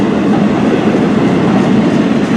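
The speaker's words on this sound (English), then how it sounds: "I think it's a northbound train." Loud, close CN M384 northbound freight train with flatcars rolling past, a dense steady roar of wheels and rattling cars filling the whole stretch.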